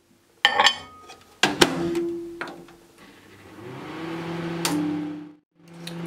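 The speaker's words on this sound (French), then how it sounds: "On va donc torréfier les graines de sésame au micro-ondes." A microwave oven toasting sesame seeds: sharp door and button clicks, then a steady low electric hum that runs for a few seconds, pauses briefly and starts again.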